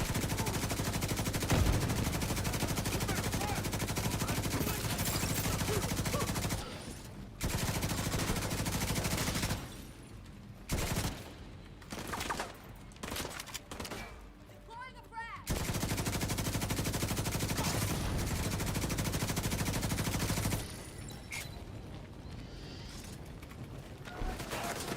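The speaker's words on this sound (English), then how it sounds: "I'll set up my turret." Turret gunfire in a video game: sustained rapid automatic bursts in long dense stretches, broken by short pauses and mechanical clanks, loud and close throughout.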